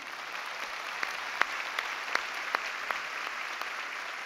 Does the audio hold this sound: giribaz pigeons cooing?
no